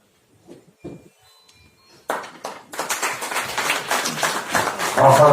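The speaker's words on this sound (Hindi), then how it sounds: "बहुत जोरदार तालियों के साथ" An audience at a film festival awards ceremony bursts into applause after a few scattered taps. The clapping is dense and continuous and grows louder over several seconds, with no speech over it.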